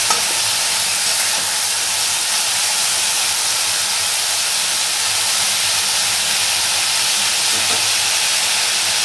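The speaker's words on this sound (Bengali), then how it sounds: "একটু ভালো করে মিক্স করে নিচ্ছি" Poha pulao with a little turmeric being mixed in a hot pan, a loud, dense, steady hiss of frying and steam with faint, occasional stirring scrapes beneath it, no voices.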